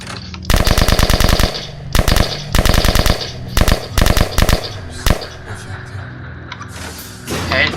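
Rapid automatic gunfire fired at SCP-049 in a Roblox site roleplay game, loud and close, in several sharp bursts separated by short pauses, fading to sparse shots near the end.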